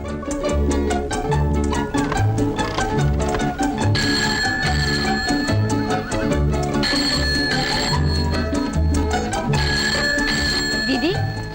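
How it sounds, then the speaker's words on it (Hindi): A telephone rings repeatedly in bursts over music and background voices. "फोन बज रहा है"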